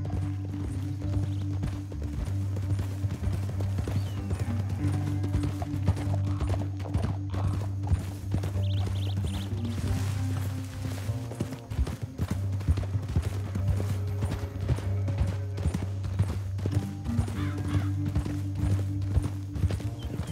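Horses gallop in Red Dead Redemption 2, with a fast, steady clip-clop of hooves close by and faint background whinnies.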